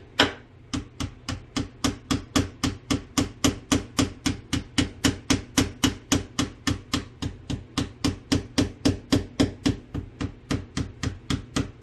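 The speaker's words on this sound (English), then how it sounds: "I'm gonna take a hammer or a pounder or anything that I can pound it out with" A hammer pounds conch meat in a steady, even rhythm, dozens of close, dull thuds repeating about three times a second without pause.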